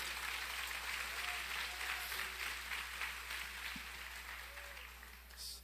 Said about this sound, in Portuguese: Se você pode, aplauda ele bem forte.